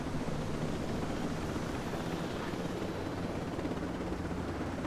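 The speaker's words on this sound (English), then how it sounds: "Get back in the helicopter." A helicopter in the video game Ghost Recon Breakpoint makes a steady, loud rotor and engine roar that fills the whole stretch with no talk over it.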